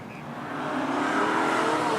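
Saloon race cars pass through a dip on a circuit in a thick, rising roar of engines that swells over two seconds as the pack draws nearer, loud and continuous.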